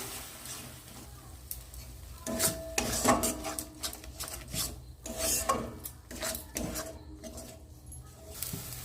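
A spoon scrapes and stirs a spice paste with whisked sour yogurt in a pan, giving a soft, steady rasping and shuffling with a faint sizzle beneath, close and low in level, with no voices.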